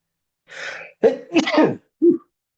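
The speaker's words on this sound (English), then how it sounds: "I'm going to sneeze" A close, sharp sneeze comes after a couple of breathy intakes, with a short final burst; no speech around it.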